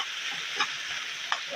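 Chicken marinade with soy sauce being stirred by hand, a soft steady wet hiss broken by a few brief louder stirring swishes, close and alone.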